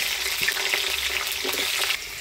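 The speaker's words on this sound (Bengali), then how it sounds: "তো হলুদ লবণ দিয়ে আলুটা ভেজে নেব।" Small new potatoes fry with turmeric and salt in a pan, giving a steady crackling sizzle with light stirring scrapes close by and no voices.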